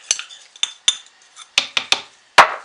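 A spoon clinks and scrapes against a container of soap batter in a series of sharp, separate knocks, close and fairly loud with quiet gaps between them.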